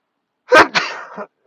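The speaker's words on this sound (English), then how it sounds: "I'm gonna sneeze." A single loud sneeze close by, a sharp burst followed by a short trailing exhale, then silence.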